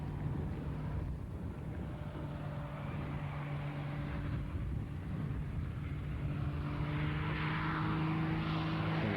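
An aircraft makes a low pass at an agricultural aviation reunion air display, its steady engine drone and propeller hum growing louder and rougher toward the end.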